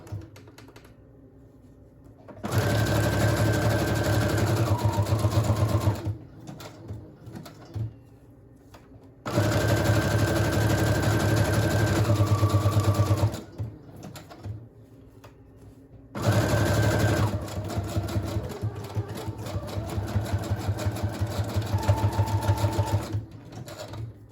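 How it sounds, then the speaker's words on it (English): A sewing machine runs in three long bursts of fast mechanical zigzag stitching on a journal folio, with quieter pauses and handling noises in between. "I'm going to do a zigzag stitch. You can use glue for all of this, but I prefer sewing machine."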